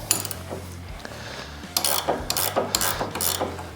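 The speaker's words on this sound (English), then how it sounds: "take the 1/2 inch wrench and loosen up this guy" Half-inch ratcheting wrench loosening a bolt on a 2022 Harley-Davidson Low Rider ST motorcycle, a close run of rapid clicking ratchet strokes in bursts over a low background hum, with no speech.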